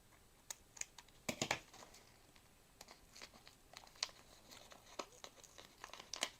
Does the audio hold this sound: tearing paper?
yes